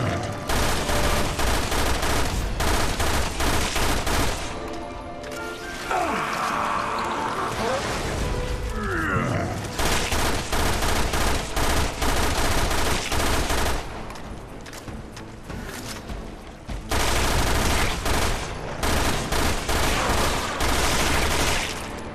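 Gunfire in Resident Evil Revelations 2, loud sustained volleys of rapid shots that keep up through most of the stretch with short lulls and mechanical clicks between bursts.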